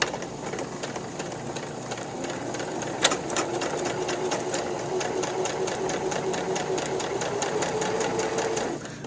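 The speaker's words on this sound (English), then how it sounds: "I'm going to sew right along the top edge of this last stitching" A sewing machine runs steadily and close up, rapid needle strokes hammering in an even rhythm as it stitches along the hem of a t-shirt being turned into a bag.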